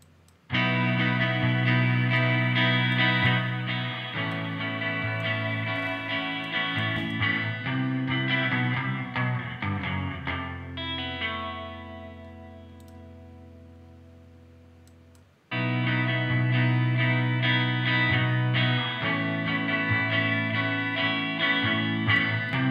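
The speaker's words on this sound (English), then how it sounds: "we can use this plugin just as a delay or just as a plate reverb" A sustained synth chord drenched in plate reverb and repeating delay; it cuts out, the echoes ring and decay, then the chord returns.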